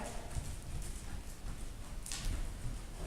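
A horse being ridden at a canter after grooming and tacking up, hoofbeats thudding in a soft, steady rolling rhythm at moderate distance, fairly faint, with no talking.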